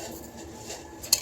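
Dishes are washed quietly, with soft rustling and scraping and then a single sharp clink of crockery near the end.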